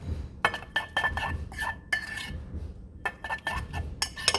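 Garlic parmesan seasoning mixed in a bowl, with quick repeated clinking and scraping of a utensil against the bowl in short bursts, close and moderately quiet.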